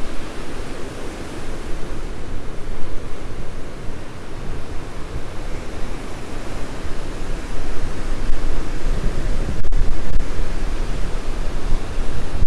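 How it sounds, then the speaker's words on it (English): Strong wind buffeting the microphone with ocean waves rolling in on the coast at Pedasi, a loud continuous roar of surf and gusts, nearby and unbroken by speech. "it is windy and we've got some waves out there in the ocean"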